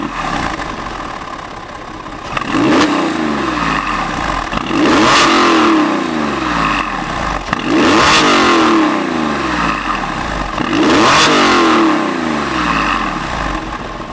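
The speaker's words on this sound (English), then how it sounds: "let's take a listen to that flat six exhaust note" A 2004 Porsche 911 (996) Carrera 4S Cabriolet flat-six, engine compartment open, idles and then revs sharply four times in a steady rhythm, each rise falling back to idle, loud and close with no talking.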